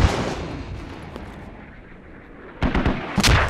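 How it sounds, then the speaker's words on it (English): Mortar rounds fire and burst in the military video game Squad, a loud rumbling blast opening the clip and more sharp, heavy booms cracking close near the end, with a low battlefield rumble in between. "Beautiful mortars, fire for effect."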